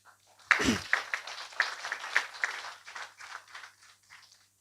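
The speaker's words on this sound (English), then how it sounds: "Can we put our hands together for a clap?" Audience at an ICPAK Western Branch end-of-year party clapping for a speech by FCPA Mutangi, with a burst of applause that starts abruptly, peaks early, then thins into scattered, uneven claps.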